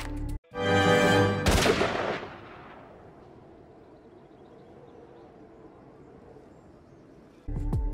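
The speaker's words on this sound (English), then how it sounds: "Diane is suddenly shot by Stewie from far away and falls off a cliff to her death" A single loud gunshot in a Family Guy cartoon scene: a sharp crack that rolls into a long, fading reverberant echo as if fired from far away, followed by quiet ambience and another abrupt sound at the end.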